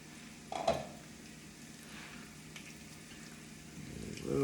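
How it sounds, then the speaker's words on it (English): Garlic in oil bubbles and sizzles softly in a pan on the stove, a faint, steady frying hiss with a brief clatter near the start and a louder swell toward the end. "now that it's getting to a boil here, you can see it"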